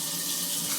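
Tap water runs steadily while something is rinsed under it in a sink, a close, even rushing splash that continues without a break.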